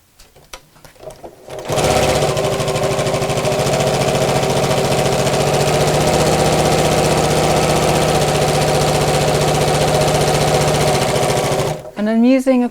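A sewing machine stitches two cut fabric pieces together for a drawstring beach bag, running steadily and loudly for about ten seconds after a short pause, then stopping.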